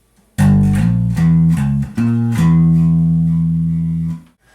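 A bass guitar plays a metal riff built on harmonic minor modes, a loud, distorted run of several sustained notes that ends on a long held tone, played alone.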